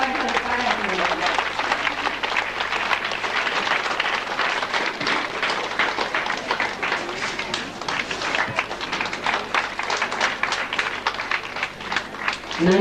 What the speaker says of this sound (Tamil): அனைவரும் கரவொலி எழுப்பி அவர்கள் பாராட்டுகிறார்கள்.